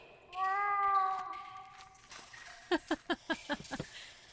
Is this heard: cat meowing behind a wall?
yes